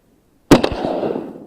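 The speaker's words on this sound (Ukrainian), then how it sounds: "Якось низько стріляю." One loud shotgun blast cracks out after a moment of quiet during a hunt over decoys, followed by a rumbling echo that slowly fades.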